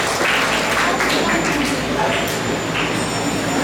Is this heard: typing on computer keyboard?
no